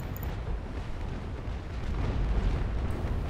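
Ship cannon fire in a naval port battle video game between USA and pirate fleets, heard as a dense, continuous low rumble of booms and blasts that swells louder toward the end.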